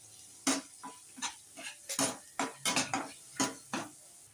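Onion, crushed chilli paste and curry leaves frying in a pan for a potato bhaji: a spoon scrapes and clinks against the pan in quick irregular strokes, about a dozen close knocks over a faint background sizzle.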